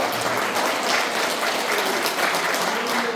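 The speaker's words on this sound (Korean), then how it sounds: "박수 한번 주십시오." Dense, steady applause from a large crowd, loud and continuous throughout without letting up.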